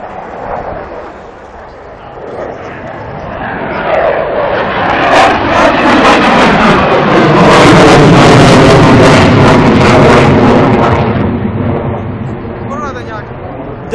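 A model airplane engine flying outdoors, its buzzing drone swelling loud as the plane passes close overhead and then fading, with people talking and shouting throughout.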